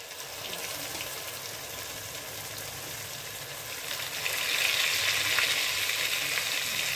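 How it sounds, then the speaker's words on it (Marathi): Cooked dal poured into hot tempering for Maharashtrian bajri amti sizzles steadily, a close, even hiss that swells louder partway through and holds. "आता आपण शिजवून घेतलेली डाळ फोडणीमध्ये टाकायची आहे"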